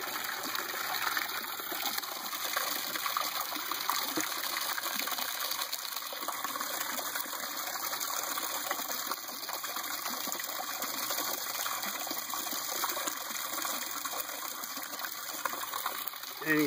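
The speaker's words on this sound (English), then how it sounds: "Turn the water up just a little bit." Water from a raised supply runs into an aquaponic grow bed fitted with an ABS bell siphon, making a steady, continuous gushing trickle at moderate distance that holds an even level throughout.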